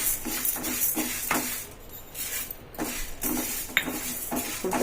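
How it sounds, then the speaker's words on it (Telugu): Dry moong dal lentils tipped into a metal pan with other dals for idli podi, rattling and scraping in repeated stirring strokes with clinks of the spoon against the pan, close and steady. "ఇప్పుడు పెసరపప్పు పప్పులన్నీ వేసుకున్నాను"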